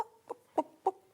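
A person's voice imitating a chicken, giving five short, evenly spaced clucks, close and clear with nothing else behind them.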